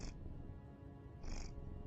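A cat purring while getting head scratches, heard as a soft, low, steady rumble with brief faint rustles at the start and near the end.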